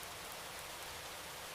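Steady rain falls continuously, a soft even hiss of drops on surfaces with no voices present.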